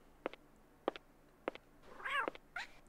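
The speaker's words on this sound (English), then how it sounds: "Oh, it's a cat." A cat in the Windows 95 game Clock Tower gives several short, evenly spaced meows followed by a longer, wavering yowl, fairly quiet and alone with no talking.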